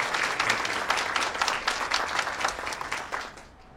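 An audience applauds Janine Halverson, Multifamily Capital Director for Wells Fargo, at a formal event. Full, steady clapping runs for a few seconds before fading out toward the end.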